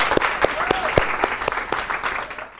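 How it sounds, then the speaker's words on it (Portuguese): Audience at a school debate on secondary education reform breaks into brisk applause, a dense burst of claps close by with occasional voices mixed in, tapering off near the end. "Palmas para ela."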